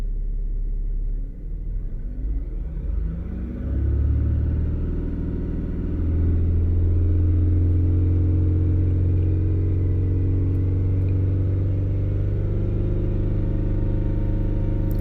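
A diesel car engine with a heavily clogged DPF idles with a low rumble, then revs up and holds at a higher, steady drone around 3000 rpm, close and loud.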